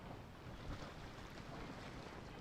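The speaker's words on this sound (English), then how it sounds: "The sound of the waves in this familiar port." Steady broadband wash of waves at a harbor port in Genshin Impact, with a low rumbling swell and windy hiss running continuously at moderate level, no talking.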